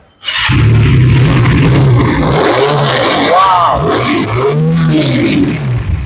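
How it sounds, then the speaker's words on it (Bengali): A Regal Raptor Spyder v4 chopper motorcycle engine runs loud and close, with a rough, steady idle that swells into several rising and falling throttle revs. "আমরা বাইকের সাউন্ডটা একটু শোনাই"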